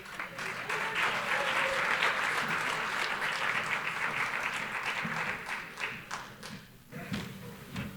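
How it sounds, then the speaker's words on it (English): An audience at a community presentation joins in a group clapping routine, producing sustained, dense clapping with a few sharper, louder claps toward the end and some voices mixed in. "Thank you for learning the banana clap with me."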